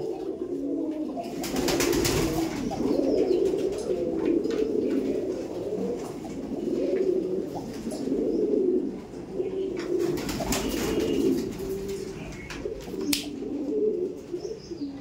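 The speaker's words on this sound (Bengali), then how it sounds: "তো একদম লফটের মধ্যে যাব, গিয়ে পরবর্তী যে পায়রাগুলো আছে সেগুলো তুলে ধরবো" Kabji pigeons coo steadily in a loft, with several birds making soft overlapping calls, occasional chirps and some wing flaps, with no talk.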